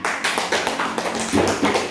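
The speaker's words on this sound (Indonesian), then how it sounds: "beri tepuk tangan" A burst of clapping from a group, dense and steady for about two seconds, with faint voices mixed in.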